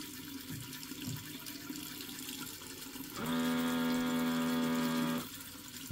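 An automatic soap dispenser running on its longest setting gives a steady motorized whir with a strong hum that holds for about two seconds, then stops cleanly, with quiet room tone before and after.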